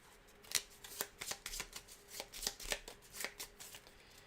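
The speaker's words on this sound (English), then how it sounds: "And these we will shuffle." A deck of game cards from a Cthulhu tabletop board game is shuffled by hand, producing a quick series of soft papery riffles and taps, close and fairly quiet, with no voices.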